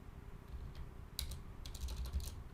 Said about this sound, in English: I see you typing